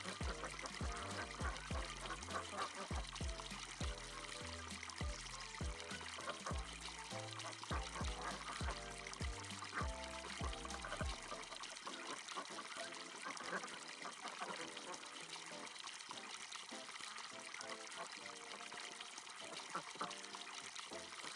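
Water steadily trickles and pours into a tank in the farming video game Farming Simulator 25, a continuous splashing wash that runs beneath looping background music throughout.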